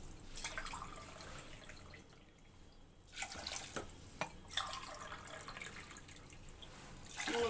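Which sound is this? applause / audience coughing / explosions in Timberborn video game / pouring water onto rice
pouring water onto rice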